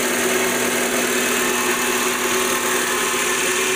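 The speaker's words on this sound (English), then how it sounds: "this is a K20 here, so starts up" Honda K20 engine idling steadily, a close, even mid-pitched hum with constant vibration and no break in level from start to finish.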